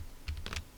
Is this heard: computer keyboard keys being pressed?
yes